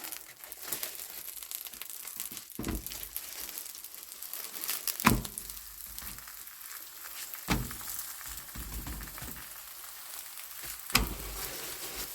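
Oil sizzling in a frying pan while stuffed crêpes cook, a steady crackling hiss with a few sharper crinkling bursts and pops, close and moderately loud with no talking.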